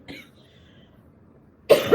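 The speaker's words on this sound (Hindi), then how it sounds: "खांसी अभी भी है।" A short cough near the start, a quiet pause, then a second, louder cough close to the microphone.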